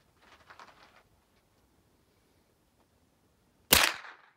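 A single sharp gunshot cracks at an outdoor shooting range, loud and close, after a stretch of faint background noise.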